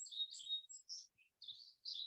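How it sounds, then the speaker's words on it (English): Small birds chirp and squabble outdoors, a quick run of high, thin tweets in short bursts with brief pauses, faint and somewhat distant. "Got some birds fighting over here."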